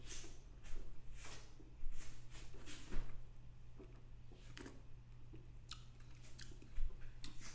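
A mouthful of sparkling Crémant being tasted, with soft wet mouth sounds and chewing-like swishes against a steady low hum, close and quiet.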